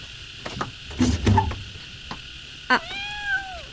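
A kitten gives a short, high, wavering meow near the end, following a few soft knocks and rustles in a quiet room.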